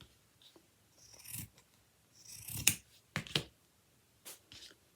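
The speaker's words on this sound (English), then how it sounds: "So I am just going to cut the toe off." Scissors snipping through the toe of a fabric sock, heard as several crisp, close cuts with short pauses and light rustling between them, no talking.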